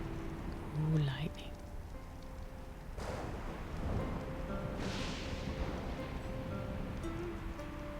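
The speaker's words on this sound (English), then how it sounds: "Ooh, lightning." Thunder from lightning in the video game ARK: Scorched Earth rolls in low, broad rumbles, with a soft hiss of rain-like noise and faint game sounds underneath.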